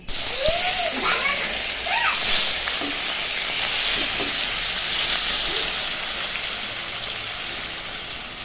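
Rui fish pieces fry in hot white oil in a wok with a loud, dense, continuous sizzle that holds steady throughout, while someone speaks briefly over it.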